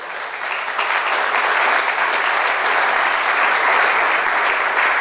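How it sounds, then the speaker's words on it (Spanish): A church congregation breaks into steady, sustained applause, a dense wash of clapping hands that swells in the first second and holds loud and even throughout. "Aplaude al Señor."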